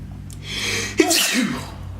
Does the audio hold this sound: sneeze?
yes